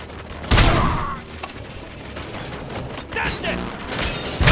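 Shotgun blasts and gunfight noise in the game Robocop: Rogue City, heavy booming shots over a busy, loud backdrop of combat effects, with a voice talking at times.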